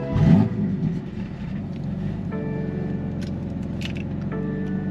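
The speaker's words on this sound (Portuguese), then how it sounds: "Pela nota inicial dele ligando, vocês já viram a quantidade de maldade que esse motor tem" A Stage 2 BMW M3 with an SSR downpipe firing up: a short loud burst at ignition, then a deep, steady idle rumble close by, with faint clicks and rattles over it.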